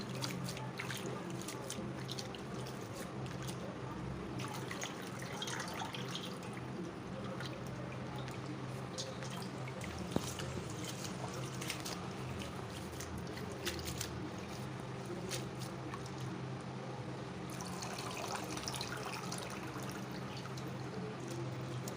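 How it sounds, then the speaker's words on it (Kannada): Chopped vegetables are rinsed two or three times in water in a home kitchen while a full Kannada thali is being prepared, with steady running and splashing water throughout and no talk. "ಕ್ಲೀನಾಗಿ ಒಂದು 2-3 ನೀರೊಳಗೆ ತೊಳಿಬೇಕು ಸ್ವಚ್ಛಗೆ"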